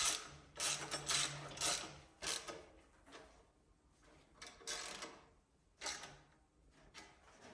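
Ratchet wrench backing out a bolt on an Aprilia Tuareg 660 motorcycle skid plate, several short close bursts of rapid clicking separated by quiet gaps, faint and alone.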